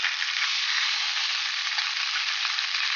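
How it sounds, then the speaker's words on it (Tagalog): Fish sizzling in a pan of cooking oil, a steady, uniform hiss of frying held close and loud throughout, with no talk over it. "naglagay na po ako ng mantika dyan. Next naman po, ilalagay ko na po ang isda natin."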